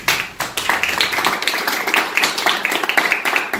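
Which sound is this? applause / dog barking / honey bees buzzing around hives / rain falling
applause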